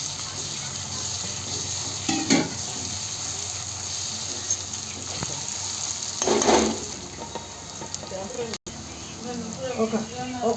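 Ginger and garlic fry in a pan with a soft, ongoing sizzle, broken by a few brief stirring scrapes, while a person speaks over the cooking.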